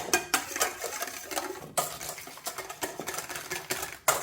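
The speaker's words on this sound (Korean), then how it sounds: "그 다음에 이제 얘를 섞어주세요." Ingredients for a flour-free chewy bread are mixed in a bowl, giving quick irregular clinks and scraping taps of a utensil against the bowl, fairly faint and close, with no talking.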